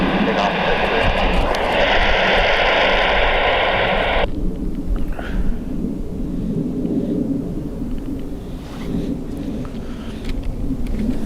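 A jet airliner takes off at Dublin Airport, its engines producing a loud, broad roar with a high whine that cuts off partway through, leaving a lower rumbling wash of engine noise that continues steadily into the distance.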